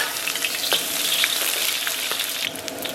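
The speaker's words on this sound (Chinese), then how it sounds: "油热以后，咱们把葱蒜给它下里边" Chopped scallions and garlic hit hot oil in a wok and fry with a loud, steady sizzle, broken by a few sharp crackles and the scrape of stirring, with no voices.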